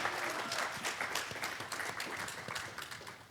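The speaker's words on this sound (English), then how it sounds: "One more round of applause for the panelists here." An audience at a technology panel discussion gives a short burst of applause for the panelists, steady and fairly distant, with no voices on top.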